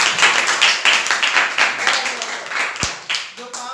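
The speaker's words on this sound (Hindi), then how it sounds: "नंदलाल के लिए एक बार ताली हो जाए।" A small classroom group claps together for a student, a brisk ragged burst of near handclaps that rises and tapers unevenly, with a sharp knock near the end.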